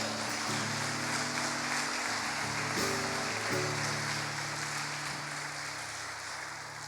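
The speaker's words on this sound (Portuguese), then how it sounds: "Dê uma salva de palmas ao Senhor" A church congregation applauds during a sermon, a soft rain-like spread of clapping continuing for several seconds over sustained low musical tones.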